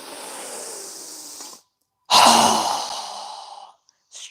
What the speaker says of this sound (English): we're going to exhale with a strong, fast breath through our mouth